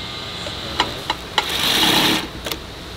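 An industrial sewing machine top stitching denim in a denim workshop gives a few sharp clacks, then a short steady whirring run of stitching before it stops, with a couple of clicks afterward. Close and clear, no talking.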